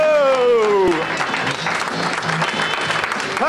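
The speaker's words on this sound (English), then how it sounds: "Give them all a nice round of applause." Studio audience on a radio show clapping after an Elvis impersonation segment, applause swelling as a voice trails off at the start, then continuing steadily with cheers and talk.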